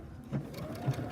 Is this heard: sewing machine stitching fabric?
yes